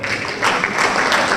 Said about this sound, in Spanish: Recibamos con un fuerte aplauso al señor Osvaldo Moreno.